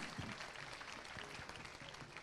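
Applause from the audience at a school annual function as students receive prizes, a dense, continuous patter of clapping that stays fairly faint and even.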